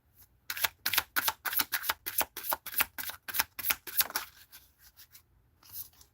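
Tarot cards riffle-shuffled in quick, crisp bursts, about a dozen sharp flicks in steady rhythm, close and clear, then fading to a few faint taps at the end.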